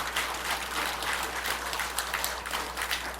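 A church congregation at a Korean Sunday worship service claps together, a short burst of dense, even applause lasting a few seconds over a faint low hum.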